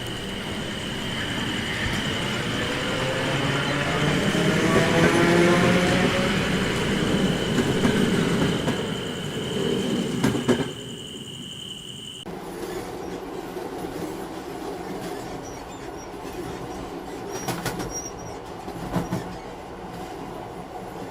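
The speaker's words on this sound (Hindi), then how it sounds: "और जैसे ही ट्रेन आती है, अभय उसमें चढ़ जाता है।" A train arrives at night with a rising rumble and clattering wheels on the rails, plus faint squeals, loud and near at first, then dropping abruptly to a quieter, steady hum.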